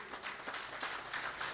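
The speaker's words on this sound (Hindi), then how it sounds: "जोरदार तालियों से उनका स्वागत करें।" Audience applause fills a stage event as a guest is welcomed, a steady, fairly faint wash of many hands clapping at a distance with no voices on top.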